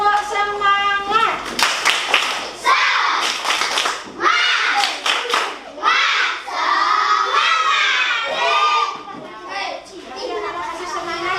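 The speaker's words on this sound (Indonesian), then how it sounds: "ayo coba tepuk semangat" Schoolchildren in a classroom perform a rhythmic spirit clap, patterned bursts of clapping mixed with loud chanting and shouting voices, with an adult voice leading at the start.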